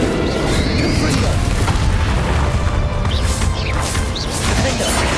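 A Confringo blasting spell explodes in the Hogwarts Legacy video game, with loud booming blasts and crashing impacts over a dense, continuous roar of battle noise that lasts throughout.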